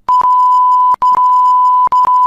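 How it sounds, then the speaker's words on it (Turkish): Censorship bleeps covering swearing during a Minecraft Survival Games match: a loud, steady electronic tone sounding three times in a row, each long beep cut off sharply by brief clicks and gaps, with no speech audible. "Ozan küfür ediyor. Orayı bipledim gördüğünüz gibi."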